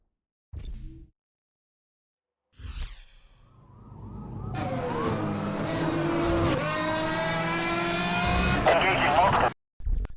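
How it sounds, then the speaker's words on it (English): Several video game race cars speeding at high pace, engines roaring loud and continuous with tonal whines sweeping through, after a few short bursts of speech at the start. "Contact on multiple vehicles racing, moving fast, working to catch up to them."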